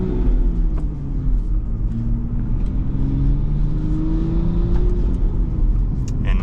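Manual transmission car pulling away in first gear, a close, steady engine rumble with rising revs as it accelerates, no talking.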